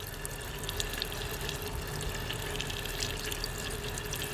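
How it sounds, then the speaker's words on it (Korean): SodaStream V3 carbonating water, a steady, continuous fizzing and bubbling wash with no pauses, close and moderately quiet, with no voices over it. "보시면 보글보글 기포가 올라오죠? 이 소리를 한번 들려드리고 싶은데"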